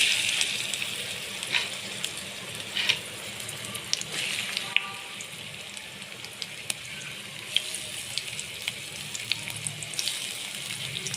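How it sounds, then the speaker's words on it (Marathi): Chopped small onions tipped into hot oil give a steady, even sizzle and hiss, moderately loud and close, with faint clinks here and there and no talking. "आता तो कांदा टाकू आपण तेलात।"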